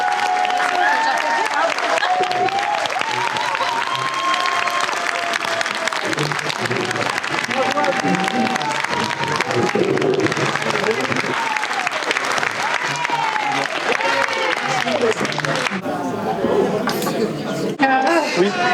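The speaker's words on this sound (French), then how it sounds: "J'aimerais qu'on fasse une salve d'applaudissements" An audience at the Paris Games Week 2025 applauds for a long stretch, dense continuous clapping mixed with crowd chatter and voices, loud and close throughout.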